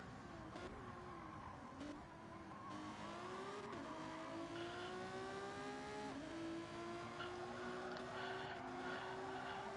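Engine of the Alpha Gr4 race car in a racing video game, a whiny, hairdryer-like tone rising steadily through the gears over a loud continuous roar, with brief shifts and other cars audible alongside.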